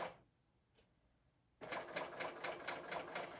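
A serger runs after a short pause, its knife trimming the fabric edge in a fast, even chatter of repeated stitching strokes, close and moderately loud, with no talking.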